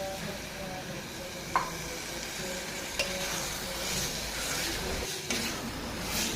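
Grated carrot and beetroot cooking in milk for halwa are stirred in a pan, a steady close hiss and bubbling simmer with faint scraping and a few soft clicks throughout.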